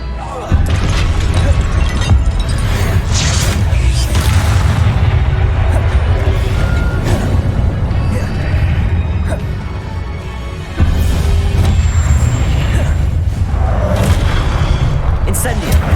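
Confringo spells in Hogwarts Legacy burst in heavy, booming explosions over dense combat noise and music, loud throughout with a brief drop near the end before the roar resumes.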